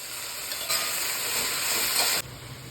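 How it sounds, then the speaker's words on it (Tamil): Spinach (siru keerai) is sautéed and stirred in a pan with onion, garlic and tomato, giving a steady sizzle with scraping stir sounds that cuts off abruptly near the end. "இப்போ சிறுகீரையும் போட்டு ஒரு வதக்கல் கொடுத்துடலாங்க"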